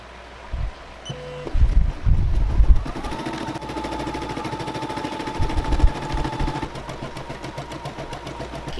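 A Caydo CE01 embroidery machine stitches a design onto a shirt with a steady mechanical whir and rapid needle ticking, following a few clunks as it starts up, moderately close and without speech.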